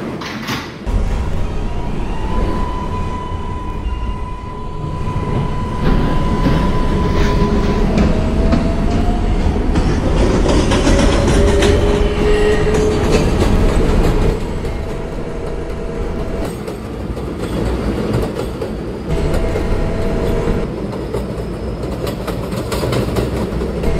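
An R142A 4 subway train bound for Woodlawn runs with a loud, steady rumble and clickety-clack of wheels on track, with rising and falling motor whines and occasional squeals heard from inside the car throughout.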